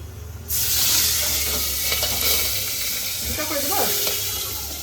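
Food hits hot oil with a sudden loud sizzle that holds as a dense, spitting hiss for several seconds, close by, with faint voices in the background.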